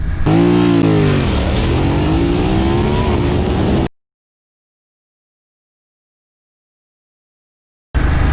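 A 2020 BMW F900R motorcycle accelerates hard from 0 to 60, its engine climbing through rising revs with gear changes in a loud, close roar that cuts abruptly to silence before returning briefly.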